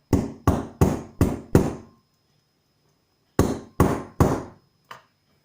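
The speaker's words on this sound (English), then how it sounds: "Some more whacks with the old mighty hammer." Sharp, loud hammer strikes on a toy joint pin ring out close by, five in quick succession, a pause, then three more and a lighter final tap.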